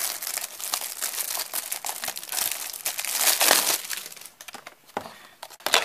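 Packaging for a genuine leather book-style iPhone 5 case is opened close up, giving a run of dense crinkling and crumpling with sharp tearing crackles and short pauses.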